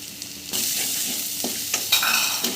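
Ground cumin and coriander with salt being stirred and fried in a pan for Bengali prawn malai curry, a steady close sizzle with scraping stirs and a few soft utensil knocks.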